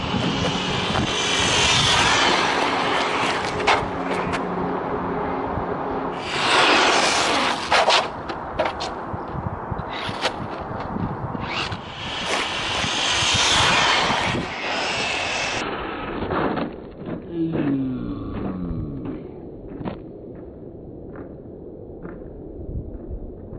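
XLF RC car racing along a road on a speed test, its electric motor whining in loud rising and falling bursts as it passes near and far, with a few sharp noises and fading runs.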